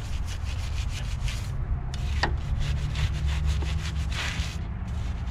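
A brush scrubs the wheel of a Corvette C6 during a wash, heard as close, rhythmic back-and-forth scrubbing strokes over a steady background hiss, with no talk.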